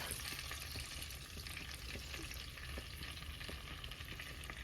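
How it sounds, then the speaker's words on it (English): Garlic, onion and seasoning fry in melted butter as the base sauce for a seafood boil, producing a faint, continuous crackling sizzle with no talking. "once that gets melted down, I'm gonna add some garlic, a little bit of onion, and the seasoning"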